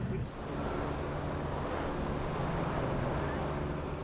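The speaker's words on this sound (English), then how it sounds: "swim through powerful waves and risk being ripped to shreds on the jagged reef" Powerful ocean surf breaking on the jagged reef at remote Flint Island, a steady loud roar of waves with wind buffeting the microphone throughout, no voices.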